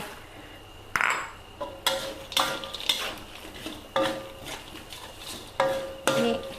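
A metal spoon scrapes and clinks in a pan as pork cracklings are stirred into hot fried-garlic oil, with repeated sharp taps at an irregular rhythm and a faint sizzle underneath.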